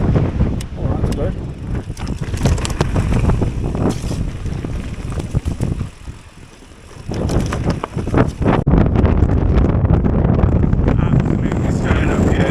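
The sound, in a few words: wind blowing at a mountain bike trail centre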